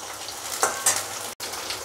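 Ginger paste and large potato chunks fry in oil in a pan, giving a steady close hiss of sizzling with a couple of brief louder scrapes from stirring and a momentary cut.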